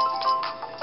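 A phone ringtone plays a short bright electronic melody with a steady tone, loud and close, with no talking over it.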